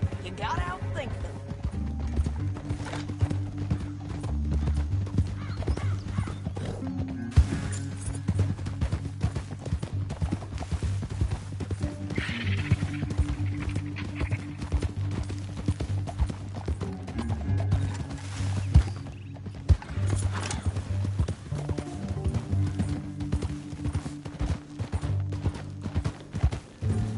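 Horse hooves in Red Dead Redemption 2 clip-clop at a steady walking rhythm under ongoing conversation, with occasional mechanical clicks and a low hum in the background.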